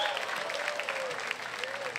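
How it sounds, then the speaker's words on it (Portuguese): Crowd applause after a round of a Brazilian freestyle rap battle, a steady dense clapping wash with a faint voice sliding underneath, continuous and fairly distant. "Cadê as palmas, família? Palmas pra esse round pesadíssimo."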